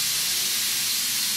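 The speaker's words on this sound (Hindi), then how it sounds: "कुकर की सीटी यार" A pressure cooker whistle releases a steady, loud, unbroken hiss of steam throughout the short moment, with no talk.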